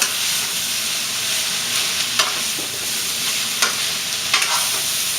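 Mushrooms and broccoli with olive oil being stirred in a pan over a continuous loud frying hiss, broken by a few sharp scrapes of the utensil. No voices.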